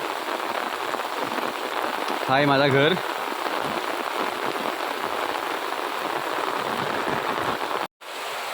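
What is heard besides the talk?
heavy rain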